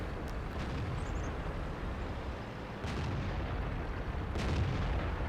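Tank cannon fire in World of Tanks: a few dull, distant booming shots break through a constant rumbling battle background, with one louder blast near the end.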